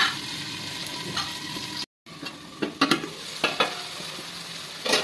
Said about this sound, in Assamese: এতিয়া মই আলুখিনি দি ভালদৰে ভাজি ল'ম